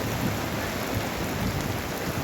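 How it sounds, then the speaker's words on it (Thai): Heavy rain pours down with wind at the Nong Pla Lai reservoir in Rayong, Thailand, during a fishing outing: a dense, steady, loud roar of rainfall that continues without a break and with no voices. "ทั้งฝนทั้งลมนะครับ"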